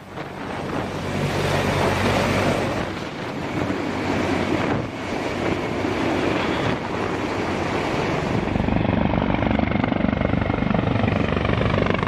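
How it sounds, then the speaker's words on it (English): A Sikorsky Marine heavy-lift transport helicopter able to sling-load cargo flies nearby, its rotor chop and turbine roar loud and steady with wind buffeting, growing rougher toward the end. "This version of the Sikorsky helicopter can easily carry over 16 tons of cargo on an external sling."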